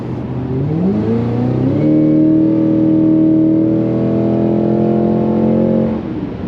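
A Cadillac CT5-V Blackwing engine revving up, its pitch climbing then holding a loud steady drone for several seconds before dropping off, heard close and alone.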